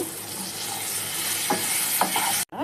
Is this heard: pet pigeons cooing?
no